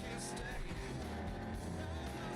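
A black Caliburn sports car drives in a video game. The engine holds a steady, dense roar, with brief tire squeal and skid noise mixed in, and the sound stays loud and continuous throughout.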